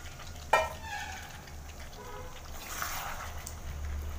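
Potatoes sizzle in a hot pan as they are stirred into a thick, simmering curry base, a sharp scrape at the start giving way to a steady, moderately loud frying hiss with occasional clinks.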